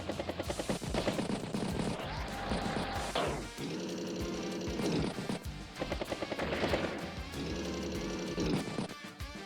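Weapon fire striking units in Advance Wars, including an anti-air unit and infantry: bursts of rapid, machine-gun-like shots and impact thuds repeat over a patterned game soundtrack.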